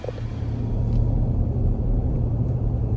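A truck rolls along the road with a steady low rumble of engine and tire noise, close and continuous with no talking.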